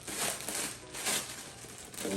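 Plastic bags packed under bubble wrap rustle and crinkle while clear timing covers for a Subaru EJ engine are unboxed, a steady close-up crackle in soft waves lasting a couple of seconds with no talking.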